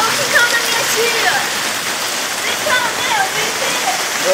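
Floodwater pours in through a yard gate during a flood in Itaquiraí, a loud steady rushing roar like a waterfall that fills the whole scene, with faint voices mixed in.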